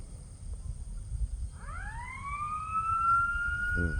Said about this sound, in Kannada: ಏನೋ ಸೈರನ್ನು.